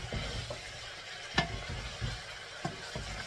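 Chunks of beef fry in oil for elubu mikila, a soft steady sizzle under gentle stirring, with a few light scrapes and clinks of a utensil against the pot.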